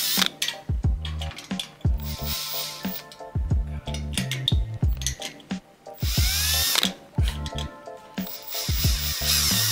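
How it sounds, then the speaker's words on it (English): A power drill whirs in short repeated bursts, piloting a small hole into a metal shed's metal, with grinding and ratcheting noises between runs, loud and close. "We're gonna pilot a little hole"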